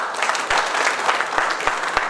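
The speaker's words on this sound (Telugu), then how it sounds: "ఎల్ఐసి ఏజెంట్స్ ఉన్నారు ఎవరు సార్ వాళ్ళ కోసం ఒకసారి గట్టిగా క్లాప్ చేయండి" An audience applauds LIC agents at an indoor gathering, a brief burst of dense, steady clapping from many hands close by.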